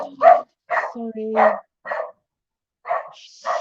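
A dog gives several short barks in quick bursts, close and fairly loud, with a person speaking briefly between them.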